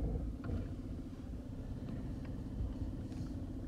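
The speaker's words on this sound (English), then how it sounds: "I had to put it in drive and then roll forward and backward real quick." A second-generation Mitsubishi Montero SR rolls slowly forward and backward to engage its air locker, a low idling engine rumble with a few faint clicks and creaks, steady and moderately close, with no talk.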